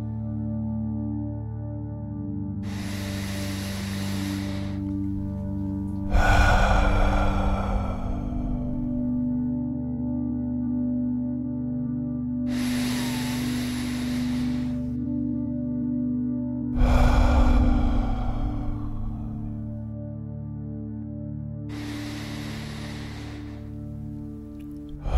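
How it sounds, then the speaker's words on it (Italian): Three slow, deep breaths taken during a guided meditation: long airy inhales, each followed by a heavier, rushing exhale, evenly spaced and alone over a soft steady hum. "facciamo tre bei respiri profondi."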